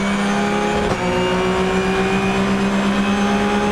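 Supercar Challenge race cars, including a Seat, race at the Nürburgring with a loud, sustained engine drone and a steady rising tone as one accelerates past, close and alone without talk.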